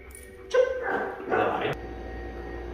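Dog yips and whimpers twice in quick bursts during an obedience training session, fairly close and moderately loud, with a steady background hum between the calls.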